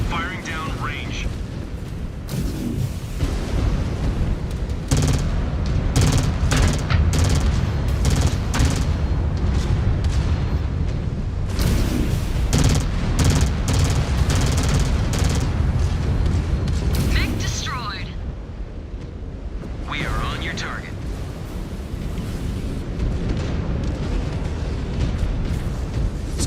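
Weapons fire in the mech combat game Wolves of Tukayyid as dense bursts of booms and rapid gunfire roll on almost nonstop, with brief lulls, while a player talks over the action.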